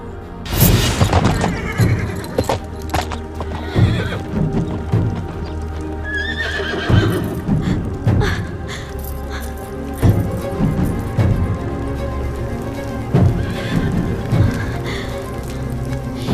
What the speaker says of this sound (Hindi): इनका घोड़ा यही है